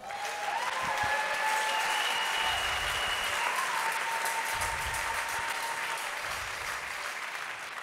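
A church congregation applauds the Lord with sustained, dense clapping that stays loud throughout, joined by a few raised voices and faint cries.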